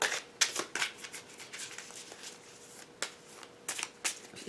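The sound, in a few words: shuffling a deck of tarot cards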